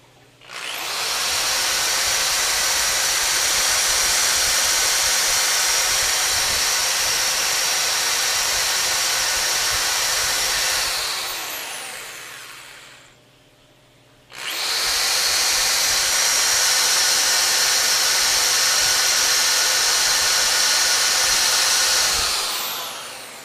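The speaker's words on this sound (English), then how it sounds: "7 amp drill." A 7 amp electric drill runs on a 5000-watt modified sine wave power inverter during a stress test, whirring loudly and steadily for about eleven seconds, stopping briefly, then running again at full speed.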